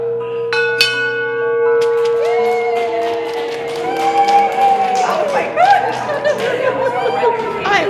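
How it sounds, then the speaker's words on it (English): A hospital bell rung by a cancer patient finishing treatment clangs loudly several times with long ringing tones, while a crowd claps, cheers and chatters. "it is a tradition to have patients ring a bell when they've completed treatment"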